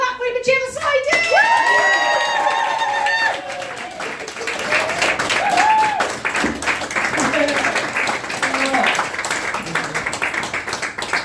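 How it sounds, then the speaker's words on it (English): A comedy club crowd at Commoners Comedy claps and cheers as a comedian takes the stage, opening with a few shrill whistles and whoops before settling into sustained, loud applause mixed with scattered shouts. "Clap for him, Jim Deaves!"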